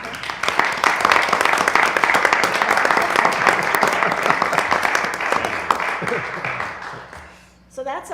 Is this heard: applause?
yes